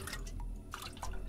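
Water drips from a leak in the horror video game Nightmare Files: Clap Clap, a few soft, separate drops falling over quiet ambient game noise.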